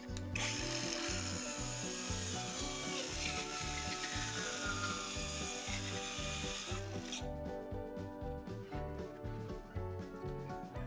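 Plywood offcuts cut along a clamped straight guide, giving a loud, steady rasping and ratcheting mechanical drone that runs without a break for the whole stretch, with no talking.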